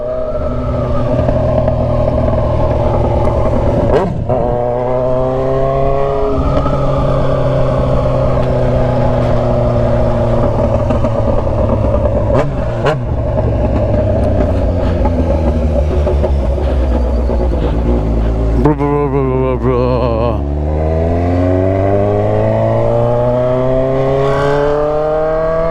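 A Kawasaki Z900RS motorcycle with a stainless steel 304 header and slip-on exhaust, loud and close, idles with a deep rumble, then revs up repeatedly in rising and falling sweeps, with a sharp blip near the end.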